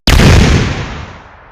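A loud, sudden explosion effect from an AI-generated head-explosion video starts with a sharp blast, then fades over about a second and a half in a broad, rumbling decay, with no talk.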